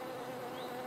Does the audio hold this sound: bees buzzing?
yes